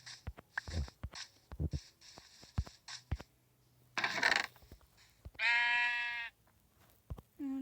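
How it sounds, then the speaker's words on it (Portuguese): In Minecraft Pocket Edition, a sheep somewhere above bleats once in a clear, drawn-out cry, preceded by a run of light tapping steps and clicks and followed by one more click. "Tem outra ovelha lá em cima."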